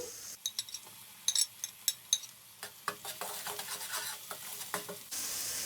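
Onions and garlic-ginger paste sizzle in a hot pan for chicken karahi while a spoon stirs and scrapes, clicking against the metal at an irregular pace.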